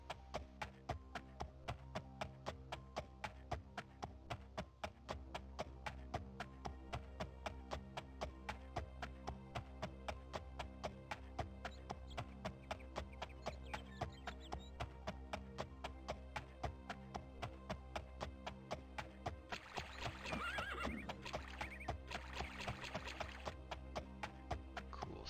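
Rhythmic clip-clop hoofbeats of a horse being ridden in the 1996 PC game The Elder Scrolls II: Daggerfall, a steady even gait repeating over a low droning background, with a brief brighter burst partway through.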